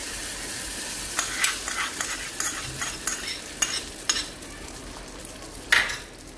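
A tempering mixture poured into dosa chutney crackles and sizzles, with a run of short spattering bursts and faint utensil clinks over a low steady background, ending in a sharper hiss.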